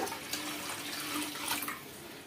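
Water pours steadily into a pot of milk on a stove, a continuous close splashing stream lasting a couple of seconds with no one talking over it.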